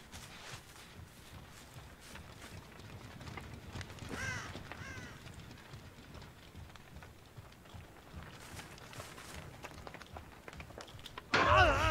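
A crow caws in the Dead by Daylight video game, a brief raspy call near the middle over quiet game ambience with footsteps, followed by a sudden loud burst at the end.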